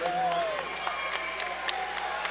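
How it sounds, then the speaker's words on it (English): Crowd applause in a high school gym at a Hicksville boys varsity basketball game against Fairview, a steady wash of clapping and cheering with sharp claps standing out, plus brief voices and a whistle-like tone early on. "Jake will come out to a well-deserved round of applause"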